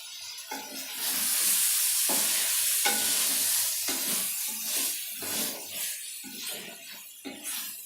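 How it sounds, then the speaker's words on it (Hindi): Potatoes frying in a pot with crushed red chillies for pulao, a steady close sizzle broken by repeated clattering stirs of a spoon, no voices. "आलू को हल्का सा भून लिया।"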